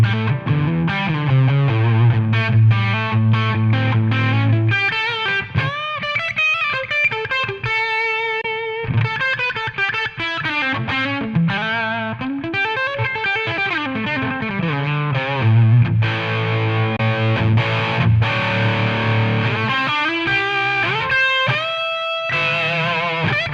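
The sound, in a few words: electric guitar through 2 Stone SS Ultimate pedal, highest gain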